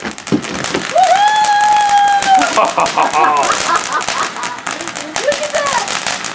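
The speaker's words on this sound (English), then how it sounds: "Well, fireworks for New Year's." New Year's fireworks let out whistling, rising shrieks and scattered crackles while people nearby talk and exclaim over them.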